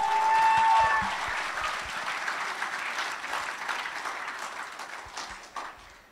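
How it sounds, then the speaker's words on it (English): Graduation ceremony audience at Grace Christian Academy applauding volleyball players, a loud burst of clapping from a crowd that slowly tapers off over several seconds, with a brief voice at the start. "Let's give them another round of applause."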